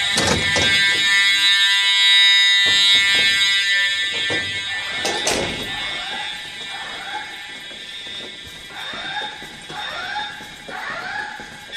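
Fire alarm sounding during a test, a loud, piercing electronic tone that blares steadily with dense harmonics, broken by short sweeping whoops that repeat in a regular pattern toward the end, with no voices.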